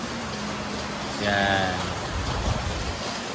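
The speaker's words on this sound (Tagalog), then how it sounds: "Lumalakas yung ulan guys." Heavy rain pours steadily in a rural countryside setting, a dense broadband hiss that continues throughout, with a voice talking briefly over it partway through.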